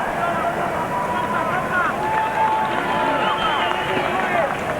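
Stadium crowd at a 2003 Rugby World Cup match between France and Fiji, a steady broad roar with murmuring swells as a Fiji substitute comes onto the field, continuous and fairly loud throughout.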